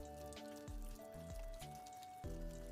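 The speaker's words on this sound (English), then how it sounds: "Here is our rain sound." A played-back recording of rain gives a steady hiss of patter and drips over a low hum and clear sustained tones, faint and continuous throughout with no voices.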